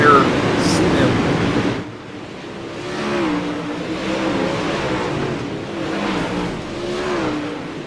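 UMP Modified dirt race cars roar through a warm-up session at Fairbury, a loud sustained engine drone with rising and falling revs as cars pass, while a voice talks over the racket.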